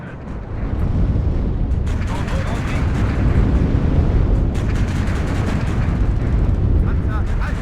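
Artillery shelling in the WARNO war game: continuous heavy rumbling explosions and booming impacts blended into a dense, loud roar, with voices talking over it.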